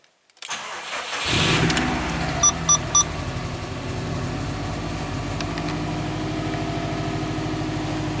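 A Subaru car that has sat unused for a long time cranks and fires up, settling into a rough, steady idle close by, with three short beeps early on.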